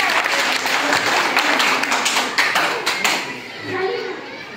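Schoolchildren clap together at a school quiz, a dense, loud burst of applause with scattered young voices mixed in, fading a little near the end.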